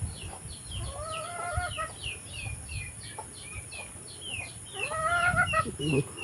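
Chickens clucking and calling in short bursts over a low rumbling background, with a couple of louder harmonic squawks near the start and end.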